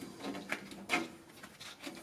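Soft-close drawer on a Husky 52 in industrial steel tool box, a quiet slide with a few faint clicks and light knocks as the drawer glides shut.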